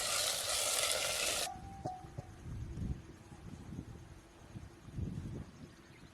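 Gunda leaves cook in oil in a pan, starting with a loud bright sizzle that cuts off abruptly, followed by softer stirring, scraping and faint crackling.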